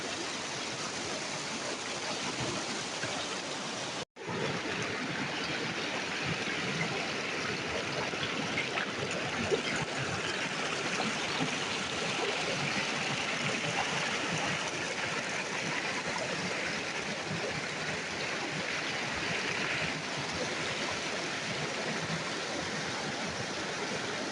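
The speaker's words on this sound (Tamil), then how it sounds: "அது எவ்வளோ அழகாக இந்த தண்ணி பாஞ்சு வருது" River water flows and splashes steadily in an outdoor riverside setting, a dense, continuous rushing wash heard close with no talk, briefly cutting out once before resuming.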